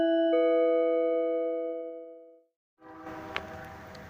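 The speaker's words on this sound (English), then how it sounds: "That is the sound of the train." A train horn blows loud, long sustained chords near Euclid Avenue in Ontario, California, fading out, then after a short gap the rumble and clatter of the passing train with a sharp clank.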